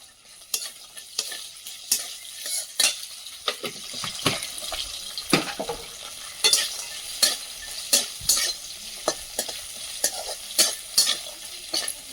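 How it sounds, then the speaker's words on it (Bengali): Bori lentil dumplings fry in a pan and are stirred. A spatula scrapes and taps in irregular strokes over a soft, constant sizzle, close and clear. "বড়িগুলো ভেজে নেব"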